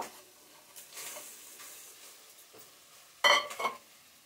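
Green pea paste stirred and dry-roasted in a wok, a soft continuous scraping sizzle with a sharper clatter of utensil against the pan near the end.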